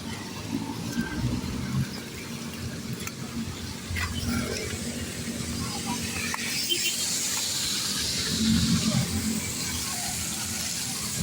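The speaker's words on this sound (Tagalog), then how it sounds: "Matindi pa rin ang ulan." Heavy rain falls steadily near a flooded street close to SM Novaliches, a continuous hissing wash of water that swells slightly toward the end, with no speech.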